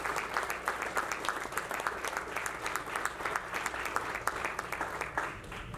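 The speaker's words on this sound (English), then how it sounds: "let's give them a big round of applause" Audience at a basketball tournament press conference breaks into a big round of applause, dense rapid clapping from a crowd filling the room, steady throughout and easing slightly at the end.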